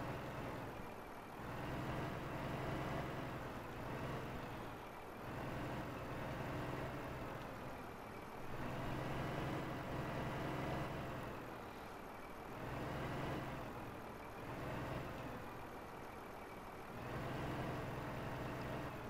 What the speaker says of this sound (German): Weil du kannst ja nicht beim laufenden Motor tanken